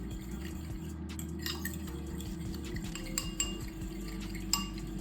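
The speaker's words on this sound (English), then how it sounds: "And now I'm gonna mix it all together." A salmon marinade with dill and spices is stirred together, with light clinks of a utensil against a dish and small wet stirring sounds over a low steady background hum, no speech.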